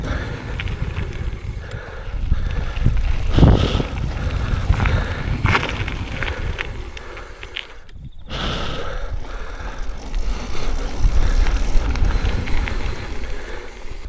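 A World Cup downhill mountain bike with TRP brakes ridden outdoors while the brakes are bedded in, with steady rushing tyre rumble and wind noise, rattles and a brief drop in sound midway.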